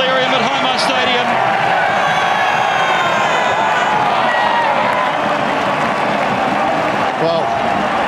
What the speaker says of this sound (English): Record crowd and delirium at Hindmarsh Stadium.